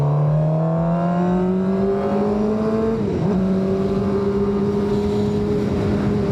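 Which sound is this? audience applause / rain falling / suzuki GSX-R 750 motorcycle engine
suzuki GSX-R 750 motorcycle engine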